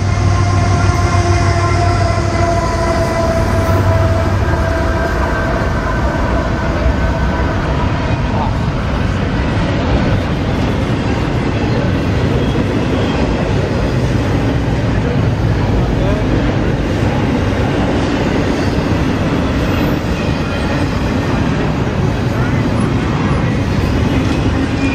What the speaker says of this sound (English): a southbound intermodal train made its way through